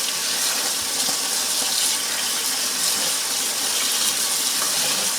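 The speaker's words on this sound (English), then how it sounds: "now I'm going to turn the water on these and just kind of start rinsing through" Tap water runs steadily over fresh collard greens being rinsed in a kitchen sink, a close, even rushing splash that holds without a break from start to finish.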